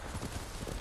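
Horse hooves clip-clop at a steady walking rhythm in the video game Ghost of Tsushima, close and clear with a continuous game ambience underneath.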